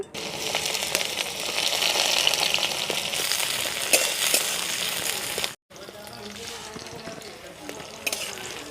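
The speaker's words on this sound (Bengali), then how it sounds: "তেল আর ঘিটা ভালো করে গরম হয়ে গেছে" Chopped onions sizzle loudly and steadily in hot oil and ghee, with stirring scrapes throughout and a short break partway through.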